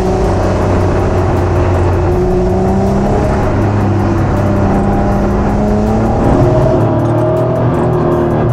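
A supercharged Honda NSX with a new exhaust drones loudly and continuously, its engine note shifting pitch as it revs, close and dominant with no talk.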